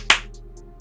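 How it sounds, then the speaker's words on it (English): A single low clap sound effect plays back once, a sharp close burst that quickly fades, followed by faint, sparse ticks over a quiet hum. "that's a single clap. That's the low clap."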